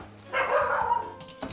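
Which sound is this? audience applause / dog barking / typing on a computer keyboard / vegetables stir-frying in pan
dog barking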